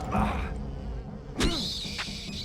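Flying insect monsters in the video game Silent Hill 4 give off a loud, droning buzz, close and continuous, with a sharper whining burst partway through over a low ambient background.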